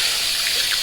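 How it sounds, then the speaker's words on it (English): Cold tap water runs during a shave, a close, steady rushing stream that stays even for a brief moment. "Use some cold water."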